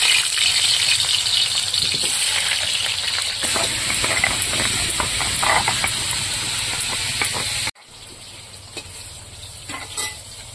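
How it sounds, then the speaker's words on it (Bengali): Freshly cut potatoes fry in a pan with a loud, steady sizzle and hiss. Near the end it suddenly drops to a quieter crackle with a few soft stirring clinks. "তো এই আলু এখন ভাজা বসিয়ে দেবো"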